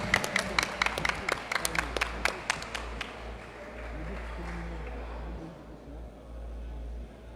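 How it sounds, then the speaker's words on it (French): An audience at a school quiz competition claps for a student player, a short run of sharp, distinct handclaps that taper off within a few seconds, leaving a low room hum. "On applaudit pour la joueuse de cette équipe"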